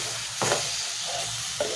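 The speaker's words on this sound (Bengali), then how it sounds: "মশলাটা কষা কষা হচ্ছে, দেখো" Spiced masala paste sautéing in a pan for an onion omelette curry gives a steady low sizzle, broken by two short scraping stirs of a spoon, one near the middle and one near the end.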